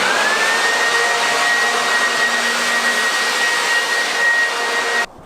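Leaf blower clearing leaves off interlocking garage floor tiles, a loud, steady whooshing roar with a rising whine that holds for about five seconds and then cuts off abruptly.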